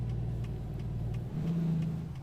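A Renault Range T truck engine in Euro Truck Simulator 2 drones at a steady low pitch, then revs higher partway through and holds there, loud and close with no voices.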